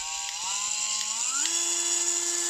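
A Parkside rotary tool from Lidl whines steadily, then steps up in pitch twice as it is turned to full speed, a close, sustained high motor drone with no talking.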